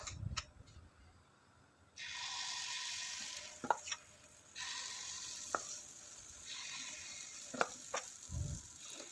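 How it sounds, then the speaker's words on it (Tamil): Kuzhi paniyaram batter is poured into ghee in a paniyaram pan over a medium flame and starts a soft, steady sizzle after a quiet start, with occasional sharp clicks and light scraping and no voices. "கல்லில் கொஞ்சோண்டு நெய் ஊற்றிக்கிட்டு ஃப்ளேமை மட்டும் மீடியம் ஃப்ளேமில் வச்சுட்டு கல்லில் ஊற்றிக்கலாம்"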